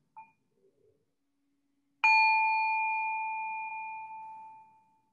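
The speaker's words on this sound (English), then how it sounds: "So let us take a breath with the bell." Meditation bell struck once at a vigil, giving a clear ringing tone that decays slowly over several seconds, alone in a quiet room after a few faint soft sounds.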